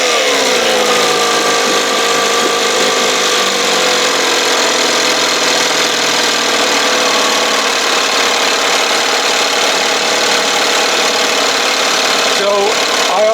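An Evinrude 6 hp outboard motor runs steadily and loudly throughout, a continuous buzzing engine drone with a brief disturbance near the end.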